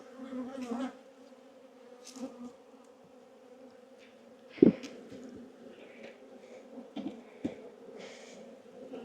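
Honey bees buzz close by in a steady low drone around their hive, with occasional bumps and handling noises.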